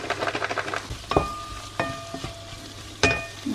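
Lardons sizzle and crackle in a pan over low-to-medium heat as they are stirred, with a few sharp clinks of utensil against metal standing out above the steady frying.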